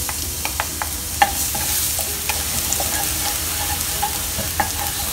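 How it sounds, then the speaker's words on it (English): Three cloves of chopped garlic fry in hot oil in a pan, a steady close sizzle with occasional light scrapes and taps of stirring, no voices. "We are going to fry garlic now."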